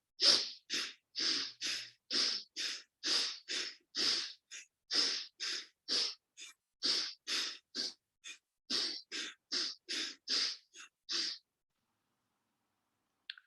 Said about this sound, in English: In yoga, this is Bhastrika breathing.